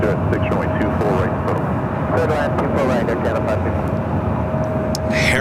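A plane flying low overhead on approach to runway 24 right at LAX, a steady broad roar that holds loud throughout, with a faint tonal whine and people talking underneath.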